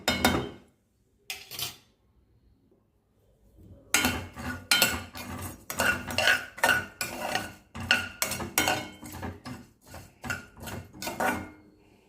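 Rice is dry-roasted slowly in a pan for baby food, with a utensil scraping and clinking against the metal in steady stirring strokes, close and moderately quiet, with a near-silent pause early on.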